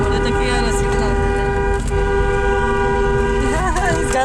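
Car horns blare in a loud, sustained, steady honk that runs unbroken for about four seconds, with faint voices underneath.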